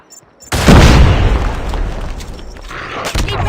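A grenade goes off in the shooter Standoff during a team deathmatch, a sudden loud, close boom that rolls on in a long rumbling decay with some crackle, a second smaller hit near the end.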